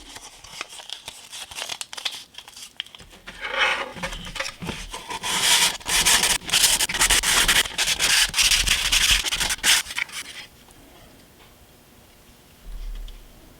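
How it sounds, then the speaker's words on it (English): Sandpaper of 220 grit rubs briskly against a model railroad pile driver part, with rapid close scratchy strokes building to a dense burst, then easing off into quieter faint rubbing near the end. "Let's take 220 grit sandpaper."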